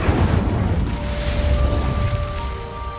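Incendio fire spell cast in Hogwarts Legacy, a steady, loud low-frequency rumbling whoosh of flame lasting about three seconds, with faint tonal ringing layered over it and no talking.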